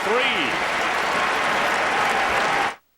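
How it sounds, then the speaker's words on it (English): Big crowd inside the Carrier Dome roars and claps during a Pittsburgh at Syracuse college basketball timeout, a loud, sustained wash of cheering and applause with a few whistles, cutting off abruptly near the end. "listen to the big crowd inside the Carrier Dome"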